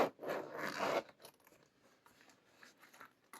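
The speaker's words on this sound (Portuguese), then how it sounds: "Deixa eu abrir aqui o zíper." A zipper being opened on a crocheted bag, one close, brisk scratchy pull lasting about a second, followed by softer handling rustles and light scrapes.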